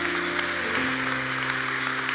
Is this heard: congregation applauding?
yes